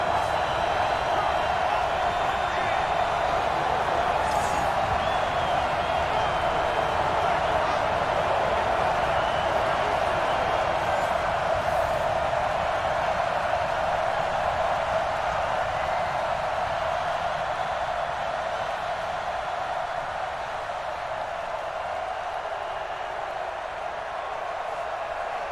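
Deafening stadium crowd roaring nonstop in Seattle during a Monday Night Football game between the San Francisco 49ers and Seattle Seahawks, a dense steady wall of noise that holds its level throughout, with a commentator's voice faintly underneath.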